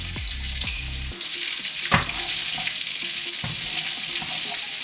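Broccoli and sun-dried tomatoes hitting hot oil in a pan: some clattering and tumbling at first, then a steady close sizzle with occasional stirring, no talk.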